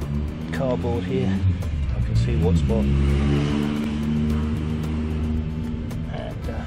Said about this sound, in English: sorry about the noise from the traffic behind